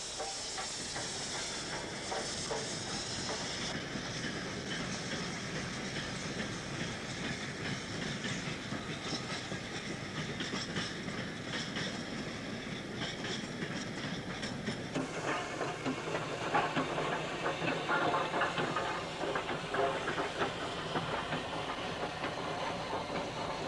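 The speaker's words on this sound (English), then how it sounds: "appears another goods train with Britannia-class Earl Haig at the head of a mixed bag of rolling stock" A British Britannia-class steam locomotive, Earl Haig, hauls a mixed goods train, with a continuous hiss and chuffing over the rattle and clickety-clack of the wagons, growing louder partway through as it passes.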